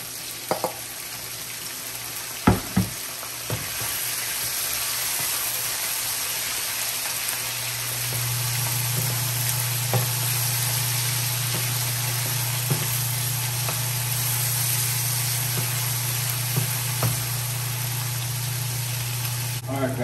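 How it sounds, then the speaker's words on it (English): Small pieces of salt codfish fry in a pan for Jamaican ackee and saltfish, producing a continuous close sizzle with a few scattered clicks and pops. "Now I'm gonna go ahead and add my codfish, right?"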